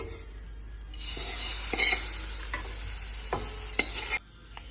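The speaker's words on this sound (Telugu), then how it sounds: "అందులో ఇది వేసేయాలి. ఈ పోపు వేసేసి" Spice tempering poured into tamarind gravy with bitter gourd, sizzling in a steady hiss that swells for a few seconds with several sharp clinks and stirring scrapes, then cuts off abruptly near the end.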